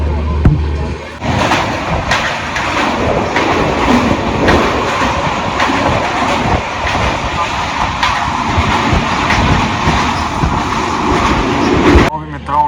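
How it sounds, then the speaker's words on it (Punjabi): A coal freight train rumbles steadily through Phagwara Junction station with clattering wheels and broadband mechanical noise, voices faintly mixed in, ending abruptly. "ਇੱਥੇ ਆ ਵਿੱਚ ਗੱਡੀ ਆ ਗਈ ਕੋਇਲੇ ਵਾਲੀ"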